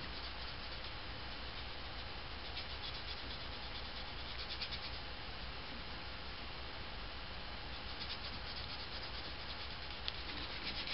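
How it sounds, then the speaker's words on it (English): Rub 'n Buff is worked into a steampunk toy gun with a fingertip, making a steady close dry rubbing and scuffing that continues alone, evenly and without pause. "I've got a little rub and buff on my fingertip here, and I'm just going to hit some places on the gun here"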